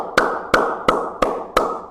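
A person claps their hands five times, loud and close, with a steady, deliberate spacing between the claps. Each sharp smack decays quickly into quiet.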